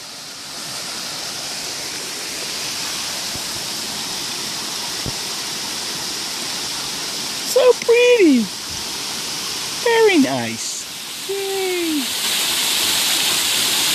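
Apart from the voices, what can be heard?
waterfall in Asheville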